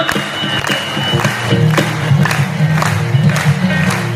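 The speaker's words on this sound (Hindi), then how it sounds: "दोनों हाथ उठा करके पहले ताली बजाते हुए" A crowd claps in a steady rhythm with both hands raised at a Hindu religious discourse, over a busy, reverberant hall, with singing voices and music mixed underneath.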